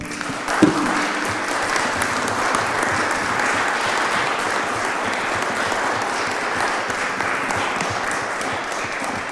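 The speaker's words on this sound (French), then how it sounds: "Je pense qu'on va applaudir Pierre Gattaz." A conference audience applauds steadily, sustained dense clapping from start to finish with an even level and no voices on top.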